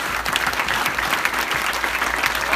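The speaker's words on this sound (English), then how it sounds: "A round of applause, please." A black-tie gala audience applauds in a sustained, dense burst of many hands clapping at once. It is steady and fairly loud throughout, with no voices rising above it.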